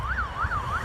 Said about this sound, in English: And excuse the sirens, I'm in the town centre.